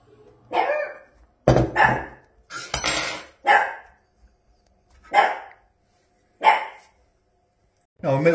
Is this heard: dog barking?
yes